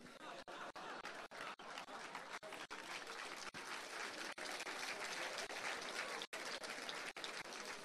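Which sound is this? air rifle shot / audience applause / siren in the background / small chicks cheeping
audience applause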